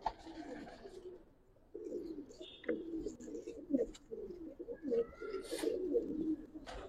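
Giribaz army cock pigeon cooing in low, throaty bursts, with faint chirps from other birds around it at a rooftop loft.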